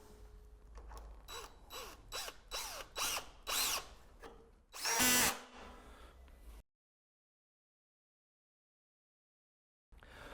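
A cordless power drill drives a single screw into the bottom of a dry verge roofing unit, several short whirring bursts followed by one longer, louder run, then silence.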